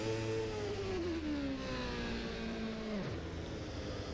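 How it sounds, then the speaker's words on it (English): A McLaren Formula One car engine in the racing game rFactor 2 drones steadily at high revs, its pitch sliding downward and then dropping sharply as it shifts, with no talking. "the sound of this car reminds me of the 1990s Indy cars"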